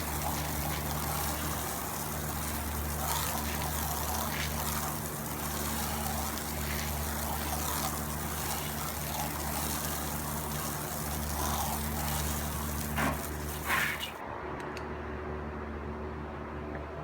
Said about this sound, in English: Rinse thoroughly from all areas.